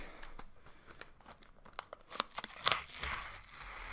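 Protective plastic film being peeled off a new 2019 MacBook Pro, giving faint crinkly rustling with a few sharp crackling rips near the end, close and without talk.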